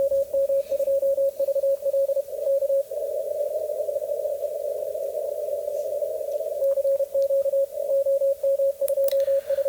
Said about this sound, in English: The pitch on both radios is set to 540 hertz, which is what you hear right now.